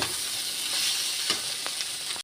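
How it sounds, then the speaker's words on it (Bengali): Fish frying in oil in a home kitchen gives a steady, close hiss and sizzle, with a few soft clicks of stirring or turning the pieces, and no talking. "তেল দিয়ে দিয়েছি আর মাছটা ভালো করে ভেজে নিচ্ছি"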